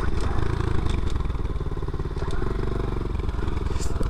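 A 50cc pit bike engine running steadily nearby, a loud continuous buzzing rattle with slight fluctuations and no clear revving.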